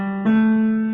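A single sustained piano tone in the left hand, shifting to a second note about a quarter second in, both ringing clearly and close with no voice over them.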